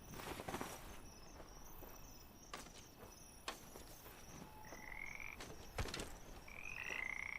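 Frogs croak repeatedly inside a video game, ragged low calls scattered across the scene amid a thin insect-like chirring, with a few soft footstep-like pats and sharper clicks breaking through.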